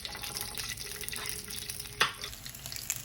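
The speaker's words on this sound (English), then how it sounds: "fry the onion a little bit. And the garlic." Onion and garlic fry in oil in a pan for red chicken tamales, making a soft, fairly faint sizzle with a sharp utensil clack near the middle and no talking.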